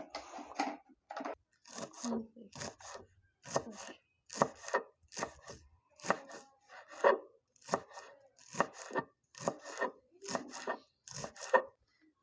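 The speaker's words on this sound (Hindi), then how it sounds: "ये मैंने लहसुन बारीक बारीक चॉप कर लिया।" A knife finely chops green garlic rapidly and steadily on a cutting board, crisp close taps in quick bursts with brief pauses, no talking.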